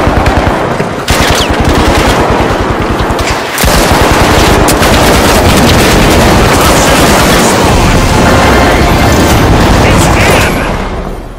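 A rocket-propelled grenade blast booms through a chaotic firefight in the shooter game THE FINALS, with continuous rapid gunfire and explosions filling the whole stretch, loud and dense, with faint voices underneath.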